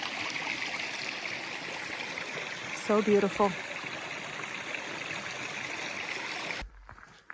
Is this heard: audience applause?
no